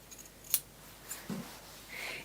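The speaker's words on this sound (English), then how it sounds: "It's got one of those really satisfying snippy sounds, this board wool, when you cut it." Sharp scissors snip through board wool fabric, giving a few crisp, close cuts spaced apart in a quiet room.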